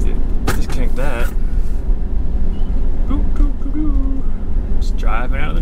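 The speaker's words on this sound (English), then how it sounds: "Just driving out of the neighborhood." Car interior noise as the vehicle drives out of a residential neighborhood: steady road and engine rumble throughout, with a person talking over it at the start and again at the end.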